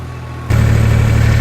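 A tractor engine drives a mulcher in a corn field, a steady loud low drone that swells partway through and keeps running evenly without pause.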